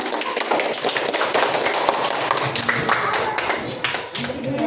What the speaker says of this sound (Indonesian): yang lain boleh kasih tepuk tangan untuk kelompok kue talam